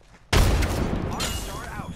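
Frag grenade in the Apex Legends video game detonating with one sudden loud boom after a quiet moment, followed by a decaying rumble and faint game effects.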